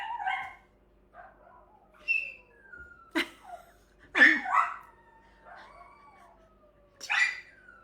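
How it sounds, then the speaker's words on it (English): A young dog named Dash howls and whimpers indoors in several drawn-out, wavering cries with pauses between them, close and fairly clear, with no talk over it. "I've never heard the howling before."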